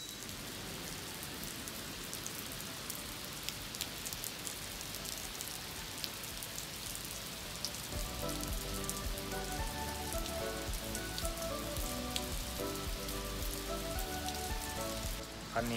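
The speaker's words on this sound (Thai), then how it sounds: "ได้เห็นวิวฝนตกของเชี่ยวหลังด้วยหมอกเต็มเลย" Rain falls steadily on surfaces at Cheow Lan dam amid thick mist, a dense continuous patter that grows heavier and fuller partway through, with no voices.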